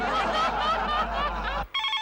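A mobile phone rings in a comedy scene: a steady electronic ringtone plays loudly for over a second, breaks off briefly, then resumes as a brighter, beeping melody.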